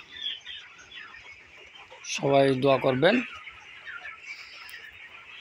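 Broiler chickens on a farm, 23 days old, cluck in a close, loud burst of repeated calls in the middle, with low flock murmur before and after and a person speaking.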